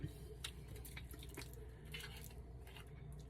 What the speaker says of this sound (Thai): น้ำปลาแดกใส่ลงไป